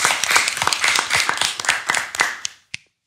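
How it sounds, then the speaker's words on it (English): A small group of people in a room clap for someone for about two and a half seconds, with close, distinct, uneven claps. The clapping dies out, and one last single clap follows after a brief pause. "Clap it up for him for that, man."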